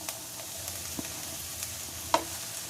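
Vegetables for veg momo stuffing stir-fry in a pan with a soft, steady sizzle, broken by a few faint scrapes and taps of a spatula, quiet and close, with no talk.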